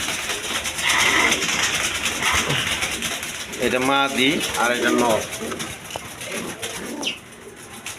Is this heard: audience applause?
no